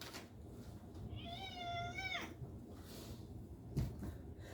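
Domestic cat giving a single clear, rising-and-falling meow of about a second, fairly close, over a quiet room background with a soft bump afterward.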